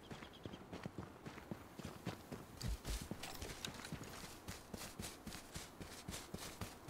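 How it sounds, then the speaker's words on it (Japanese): Footsteps in the video game H1Z1 patter faintly in a steady, quick rhythm of soft thuds over several seconds, with a slightly heavier pair of steps near the middle. "割とはっきり足音は聞こえるから"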